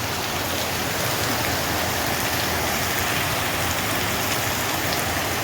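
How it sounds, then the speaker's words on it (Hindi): Heavy rain pours at around five in the morning and soaks a road, a constant loud hiss of downpour that never lets up, with no voices. "अभी देख सकते हैं बहुत तेज़ बारिश हो रहा है।"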